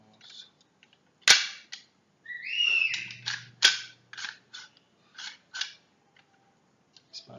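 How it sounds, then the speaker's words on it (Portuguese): A full-metal Walther PPQ spring airsoft pistol is dry fired. Sharp, close metallic snaps ring out alongside slide-racking scrapes and smaller mechanical clicks, spread across several seconds with short silent gaps and no talking. "Disparo seco."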